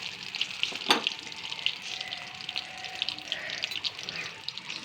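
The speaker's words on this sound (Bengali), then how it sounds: "আর বড়া ভাজছি, এতে কোনো ঝামেলাই নেই, চটপট হয়ে যায়।" Bottle gourd leaf fritters fry in a small amount of oil, giving a soft, steady sizzle with scattered pops and crackles up close. A single metallic clink sounds early on.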